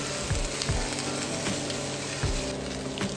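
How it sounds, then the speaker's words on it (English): Sweet onion tossed into a hot pan with red peppers and tomatoes for salsa sizzles loudly and steadily up close, with a few soft knocks of stirring and no talk. "Now toss those sweet onions into the pan."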